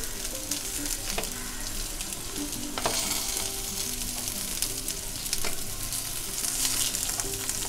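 Stuffed okra (bhindi) fries in a pan over a medium gas flame, giving a steady close sizzle broken by a few sharp clicks and scrapes as the pieces are stirred and turned, with no speech.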